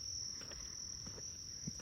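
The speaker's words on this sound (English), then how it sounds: "on these beautiful mornings where the weather is like absolutely perfect, and you're hearing the crickets" Crickets chirp on a perfect morning near crop fields, trees and flowers as one continuous, steady high trill, fairly faint, over a low background rumble.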